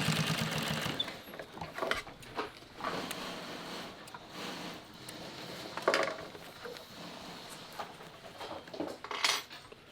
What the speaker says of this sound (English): Now we gotta sew it on.